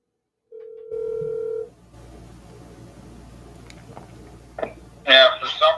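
A telephone call fails to go through: a short steady tone sounds, then a quiet line hiss follows with a few faint clicks, before a voice begins speaking near the end.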